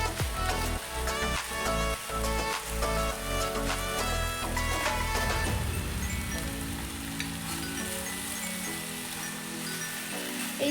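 Green chili and half an inch of ginger sautéing with spices in a pan for bitter gourd shukto, giving a steady close sizzle throughout, with tonal background sounds over the first half.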